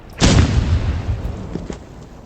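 A lunchbox bomb explodes in a video game tournament match, one loud close boom with a heavy low rumble that decays over about two seconds, followed by a few faint trailing pops.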